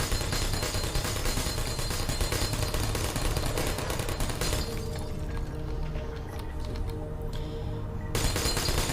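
Turret gunfire in Portal, a steady loud stream of rapid automatic shots with breaking and impact sounds, easing slightly midway before surging again.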